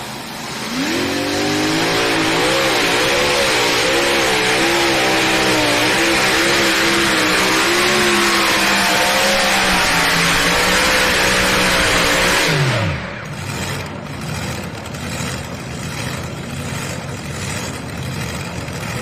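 A pulling tractor at a truck and tractor pulling event in Bowling Green, Ohio roars at full power for about twelve seconds, its pitch wavering, then suddenly cuts off, leaving crowd and arena noise.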